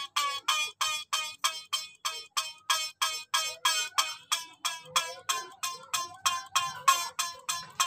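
A single plucked iktara string struck in a steady, even rhythm, about sixteen twangy notes, with the pitch gradually rising as the string tension is increased.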